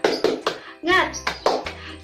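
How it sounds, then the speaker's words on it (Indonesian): Children in a fourth-grade elementary classroom do a rhythmic spirit clap, with several crisp, loud clap beats in a patterned sequence alongside chanted voices. "Sekali lagi ya, tepuk semangat."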